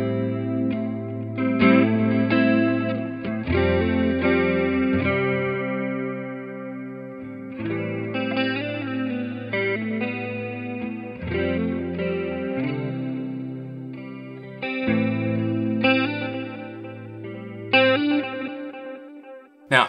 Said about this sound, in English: I like chorus.